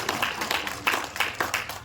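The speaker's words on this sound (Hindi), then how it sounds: "तालियां।" Rhythmic group clapping at a welcome ceremony, a brief run of evenly spaced claps from several people in a room.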